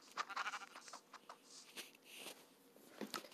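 Sheep bleat in the Minecraft video game, a few short, faint calls spread across a quiet stretch with no talking.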